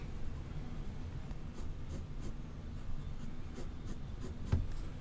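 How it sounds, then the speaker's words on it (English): Graphite of a number 2 secretary pencil scratching across paper as an artist draws, a steady close-up rasp of short strokes with no voices. "this is a number 2 secretary pencil"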